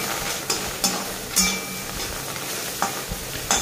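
Sliced onion and tomato are stirred and sautéed in oil in a pan for dhaba-style matar paneer, with a steady close sizzle broken by several soft scraping stirs of the spoon.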